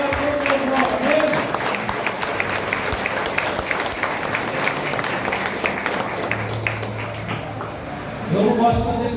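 A church congregation claps and applauds together in a dense, sustained wash of hand claps that carries on for several seconds, with some voices mixed in near the end.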